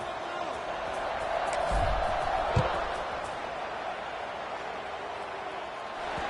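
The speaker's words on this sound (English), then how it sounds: "this crowd is buzzing after that last score" Football stadium crowd buzzing after a score in an East Carolina game: a broad, steady murmur of many voices, moderately distant, with a brief thump near the middle.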